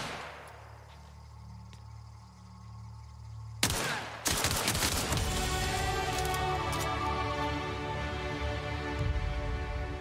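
Gunfire erupts in The Outer Worlds as a sudden loud shot. A dense, sustained volley of ringing gunshots follows, close and dominant, after a quiet stretch of low game ambience.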